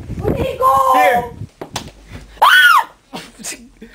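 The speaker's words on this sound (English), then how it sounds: "Stop screaming." People scream in panic at a bird loose indoors, with shrill shrieks rising over frantic voices and movement, loud and close in a domestic room.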